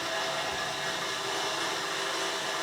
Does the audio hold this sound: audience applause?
no